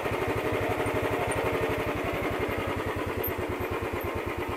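Motorcycle engine on a ride near Rani Jheel lake in Ranikhet, Uttarakhand, a steady close low throb with rapid regular firing pulses and constant loudness, no voices.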